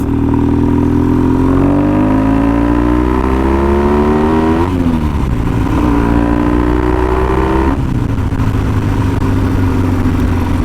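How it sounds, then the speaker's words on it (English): A Triumph T140 750 motorcycle ridden at speed, its engine loud and steady throughout with rising pitch as it accelerates through the gears, two audible gear changes dropping the revs before climbing again. "I think this is the first time I've actually ever ridden a 750 Triumph."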